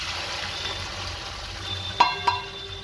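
Chopped onion fries in hot oil with mustard seeds and cumin, making a steady close sizzle with stirring. Two sharp utensil taps sound near the end.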